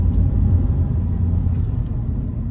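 A 2020 Toyota 86GT with a six-speed manual rolls through a parking lot, its engine giving a steady low rumble at moderate, even loudness with no talk over it.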